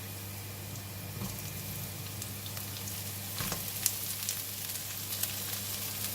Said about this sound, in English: The oil is hot, I'm going to put in the garlic.